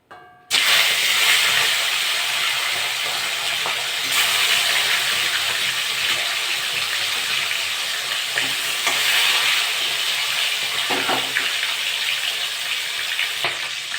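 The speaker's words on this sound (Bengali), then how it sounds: "তেলটা গরম হয়ে গেছে মাছগুলো ভেজে নেবো" Silver calf fish sizzle loudly in hot mustard oil in a kadai. The hiss starts abruptly and holds steady and close, with occasional crackles and light clinks, and no talking.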